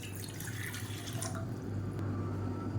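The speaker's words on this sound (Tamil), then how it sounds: "இதில் வந்து நல்லா நூற்றி ஐம்பது எம்எல் அளவுக்கு தண்ணி சேர்த்துக்கலாம்" About 150 ml of water streams into a cooking pan in a continuous, steady splashing pour, close and clear, with no talking over it.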